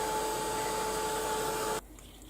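Heat gun blowing to clear glue gun strings, a steady whirring hiss for about two seconds that cuts off abruptly into near silence.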